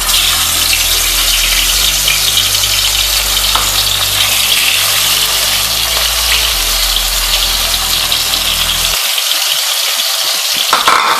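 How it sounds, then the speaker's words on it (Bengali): Fish fries in hot mustard oil in a wok with a loud, continuous sizzle and crackle close by. A low hum underneath drops away near the end. "এবার এই গরম তেলের মধ্যে আমি মাছটা আগে ফ্রাই করে নেব।"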